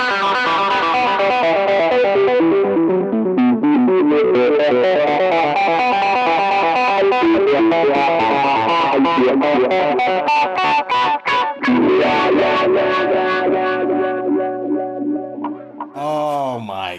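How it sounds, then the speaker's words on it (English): Through a wah pedal, an electric guitar plays rapid dotted-eighth arpeggios with a sweeping, synth-like filtered tone and echoing repeats, loud and continuous with no talking. "You can even put some like dotted eighth note arpeggios, and you kind of have like a synthy kind of sound here."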